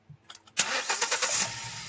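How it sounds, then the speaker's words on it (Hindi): A Hyundai i20 petrol car with an ignition coil misfire fault cranks in a few short bursts, then catches and starts, settling into a loud, rough, pulsing idle close by. "अभी गाड़ी को क्रैंक करेंगे।"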